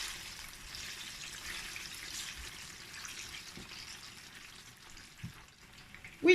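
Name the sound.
plantain frying in hot oil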